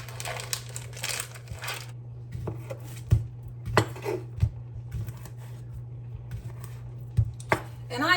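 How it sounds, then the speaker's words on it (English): Apples being cut and put into a skillet, scattered clinks, knife taps and dish clatter with brief crinkling, over a steady low hum. "I'm gonna go ahead and get these cut and put these in the skillet"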